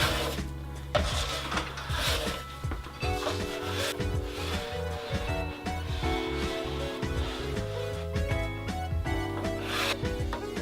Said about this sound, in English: So you're gonna go ahead and just start scraping that bad boy.